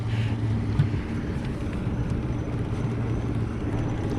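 A boat engine idles as the boat is put into gear on a winter day near Crystal River and Jewfish Key, Florida, producing a close, steady low rumble with a faint brief clunk near the start and no talking.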